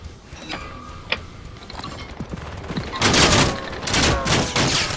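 Rapid gunfire from the video game Call of Duty: Modern Warfare III, dense bursts of shots that swell louder in the second half over a busy game soundscape.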